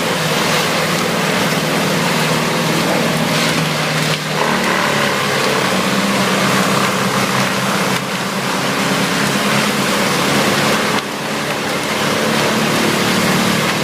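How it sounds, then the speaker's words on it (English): A large wood chipper with rotating steel blades shreds whole trees, making a loud, dense, unbroken roar of grinding and rushing noise with slight surges along the way. "The machine hums, then suddenly roars as the internal drum spins up."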